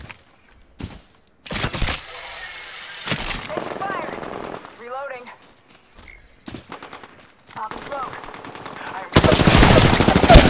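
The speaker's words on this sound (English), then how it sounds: "Shooting at me." Rapid automatic gunfire bursts in Apex Legends, loud and close, with a sustained heavy volley at the end; a voice talks between shots.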